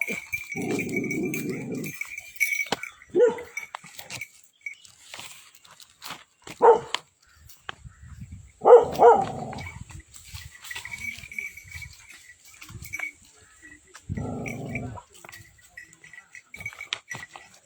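A dog barks in several separate bursts spread across a quiet outdoor scene, close and fairly loud, mixed with other animal noises and brief human voices between the barks.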